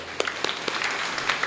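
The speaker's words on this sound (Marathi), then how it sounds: "एकदा या सगळ्यांसाठी टाळ्या वाजूया आपण जोरदार." An audience at a Marathi kirtan devotional gathering in Vihitgaon claps together in dense, steady applause. Individual sharp claps stand out against the broad, continuous wash of hands.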